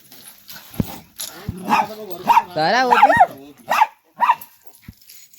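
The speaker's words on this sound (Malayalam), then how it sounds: "റാംബോയ് വഴക്ക് പറയുന്നുണ്ടോ കുരയ്ക്കുന്നതിന്?" A pet dog at home gives a series of short, close yips and barks in uneven bursts. A person talks to it between the barks.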